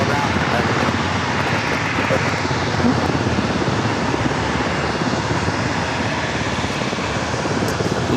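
A Delta Connection SkyWest regional jet bound for Las Vegas roars loudly and steadily from San Diego airport, a dense broadband engine noise that holds throughout, with talk mixed in beneath it.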